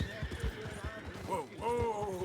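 A horse in the video game Red Dead Redemption 2 whinnies over rapid clip-clopping hooves, loud and close, with someone talking at the same time.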